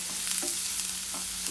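Chopped onion stir-fried in a hot pan for okra thoran, a Kerala coconut dish, giving a steady close sizzle broken by a few scraping stirs with no talking.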